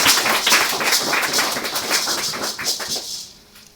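A church congregation at a sermon breaks into a dense, sustained burst of applause that fills the room before it thins and fades out at the end.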